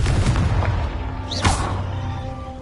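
A Confringo blasting spell goes off in a Harry Potter video game, a booming burst with a sharp whooshing streak through it, set over a dense, loud backdrop of rumbling game noise.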